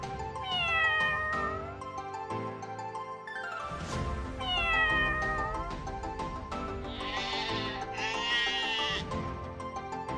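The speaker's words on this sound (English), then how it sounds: "Cat." A cartoon cat meows repeatedly over a bright children's-show music backing, the calls rising and falling as separate cries spread across the clip with no talking.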